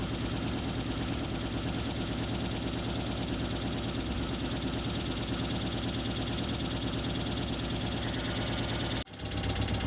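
An Opel car engine runs at a steady, even 1500 rpm, droning continuously with a brief dip near the end; no one speaks.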